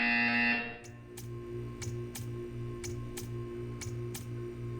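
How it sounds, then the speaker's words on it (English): A loud electronic buzzer in Portal 2 cuts off, followed by a steady series of regular ticks over a low humming drone. "You will hear a buzzer."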